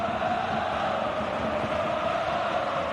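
A football stadium crowd in a Celtic versus Heart of Midlothian match keeps up a steady, distant roar, a broad continuous wash of massed voices with no distinct individual shouts.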